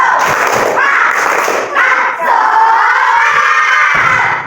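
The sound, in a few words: children doing the 'tepuk semangat' rhythmic clap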